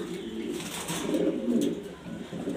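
German Beauty Homer pigeons coo softly in a loft in Mirpur, Dhaka, low throaty murmurs rising and falling over a steady background hiss, moderately close and not loud.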